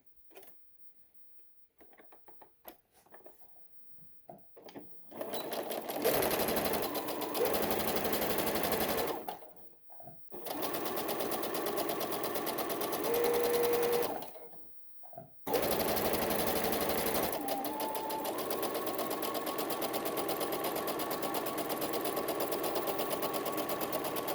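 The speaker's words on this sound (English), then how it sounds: "I'm going to come to the end and back stitch, needle up, clip" A sewing machine stitches and back-stitches a little dress, running in long steady buzzing bursts separated by brief pauses, close and loud with no talking.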